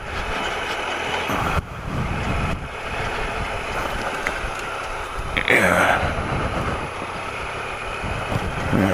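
Motorbike engine held at low revs on a soft, slimy forest trail, a steady low rumble with brief surges and bumps as the bike rolls over roots.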